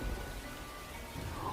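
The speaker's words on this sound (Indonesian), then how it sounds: "Malam itu hujan lebat, disertai petir yang tak kunjung berhenti." Heavy night rain pours steadily in a coastal village, a dense continuous hiss with a low rumble of thunder underneath.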